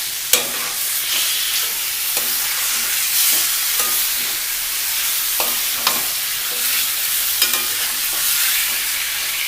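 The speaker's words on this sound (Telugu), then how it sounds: "చికెన్ ముక్కల్ని వేసుకొని బాగా కలియబెట్టండి" Chicken pieces frying in a pan for a tamarind-leaf chicken curry, with a steady broad sizzle and repeated scraping strokes of a spoon stirring them through, close and fairly loud with no talk.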